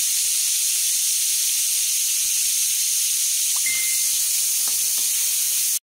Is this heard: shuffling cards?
no